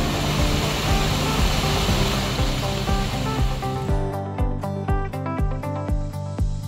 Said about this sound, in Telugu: చూడండి వాటర్ ఫాల్స్ ఉన్నాయి.